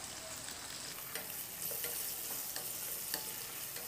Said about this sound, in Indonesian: Kita tumis juga setengah matang biar sedikit layu.